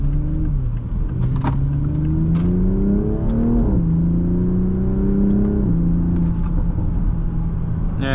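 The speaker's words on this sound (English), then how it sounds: "Yeah, engine sounds pretty good," A 2020 Toyota Supra 3.0 with the B58 inline-six revs steadily while driving, its engine note climbing and shifting pitch through several gear changes. Loud, close and continuous for the whole stretch, with no talking.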